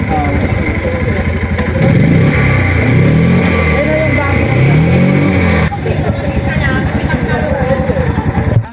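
A vehicle engine revs and pulls away, loud and close, with a steady droning roar that rises in pitch as it gets underway; voices talk over it.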